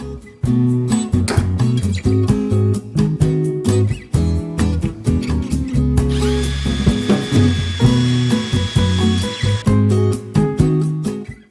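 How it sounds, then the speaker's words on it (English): A power drill fitted with a wire brush whirs in repeated bursts, cleaning out threads on a Miata's rear end, starting and stopping with a rough scrubbing rasp, the motor pitch rising and falling close by. "I like to put a wire brush and a drill, and that makes short work of cleaning out the threads"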